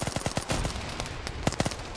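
Rapid bursts of gunfire as soldiers shoot at giant bugs in a Starship Troopers video game, sharp repeated shots in clusters with a sustained volley in the middle, loud and close.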